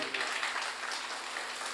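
Applause from an audience at a devotional Bhagavat Katha gathering, a steady wash of many hands clapping with no break across the short stretch.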